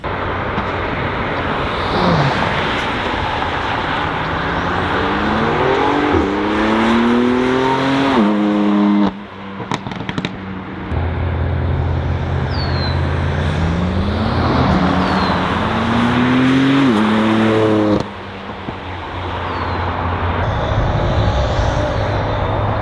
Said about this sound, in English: let's go ahead and get some flybys, see how it sounds moving.